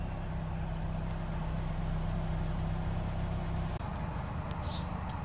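A 2005 Nissan Frontier engine idles at around 750 RPM after a crankshaft position sensor replacement, a steady low hum heard nearby and fairly quiet, with a faint bird chirp late on.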